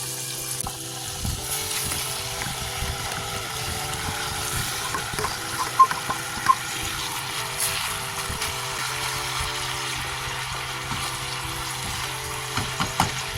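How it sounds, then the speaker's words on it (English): Water poured into a hot pan of sautéed vegetables for a jerk chicken sauce sets off a steady bubbling sizzle with faint clinks and stirring, close and continuous throughout with no talking. "And I add a little water."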